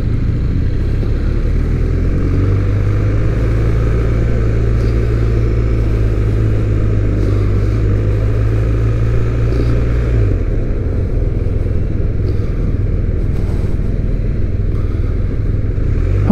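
A BMW R1250R motorcycle on a test ride gives a loud, steady engine drone with wind rush, near and continuous, easing in pitch partway through.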